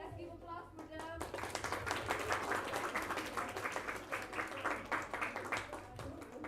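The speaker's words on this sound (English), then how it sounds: "let's give applause for them" An audience at a debate competition claps steadily for several seconds, a dense patter of hands heard close up at moderate volume.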